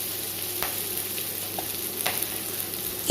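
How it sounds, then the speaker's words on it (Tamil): Mixed vegetables for a bamboo-rice vegetable biryani sauté in a pan, a constant close sizzle with a few soft clacks of a spoon stirring through it. "இந்த காய் நல்லா வதக்கி எடுத்துக்கலாம்"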